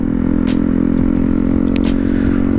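A KTM Duke 125 motorcycle engine runs steadily and loudly up close, with a constant droning hum and no voices over it.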